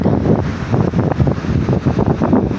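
Strong typhoon wind from Bagyong Uwan gusts in Bohol, roaring and buffeting the microphone in loud, continuous, uneven blasts with no voices.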